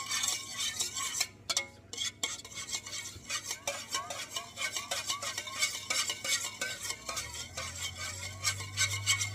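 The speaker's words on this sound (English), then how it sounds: "Mix thoroughly, and this creates a homogeneous solution." Batter with melted butter being stirred briskly in a bowl, a steady run of scraping, clinking strokes close by, with no talking.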